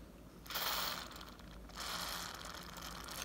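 Lubricant hisses out in short sprays into the internal parts of a stiff door knob. The bursts are close and fairly soft, in two spurts with a brief lull between them.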